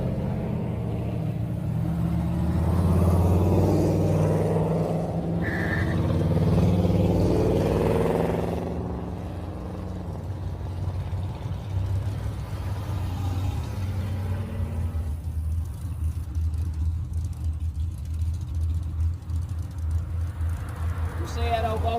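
Vehicles drive out of a church car show parking lot, a low engine rumble with passing cars under steady talk from people nearby.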